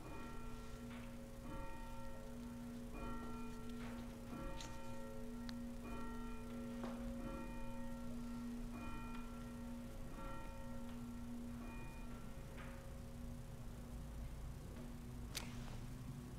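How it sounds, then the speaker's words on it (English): A church bell rings for an Easter Sunday call to worship, steady repeated strikes with sustained ringing tones throughout, fairly faint and alone without talk. "And the ringing of our bell."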